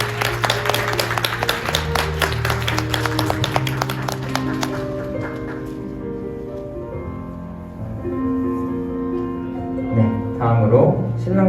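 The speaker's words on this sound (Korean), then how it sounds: "박수 주세요" Wedding guests applaud in a hall as the bride and groom bow to their parents, a dense burst of clapping that fades after a few seconds into sustained music-like tones.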